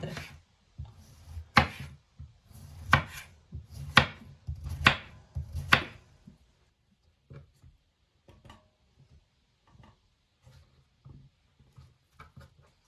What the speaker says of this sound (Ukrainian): Нарізаємо кабачки кільцями товщиною приблизно 3-4 мм.